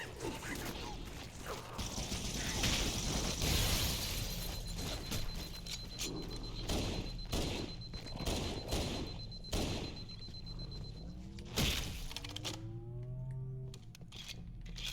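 Scattered weapon fire and mechanical clatter in the video game Halo, a mix of shots and clicking sounds at moderate volume, ending with swooping electronic tones.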